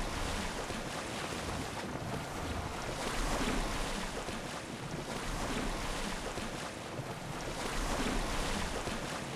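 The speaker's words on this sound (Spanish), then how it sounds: "No creo que este barco pueda con esas olas." Steady rush of waves and wind as a sailing ship cuts across the open sea in Assassin's Creed Odyssey, a continuous broadband wash with gentle swells in loudness and no voices.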